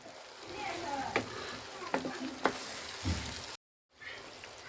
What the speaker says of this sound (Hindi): और थोड़ा सा भून लेंगे।